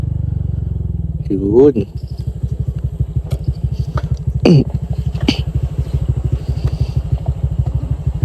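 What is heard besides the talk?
Honda Click 125 v3 scooter exhaust pipe revving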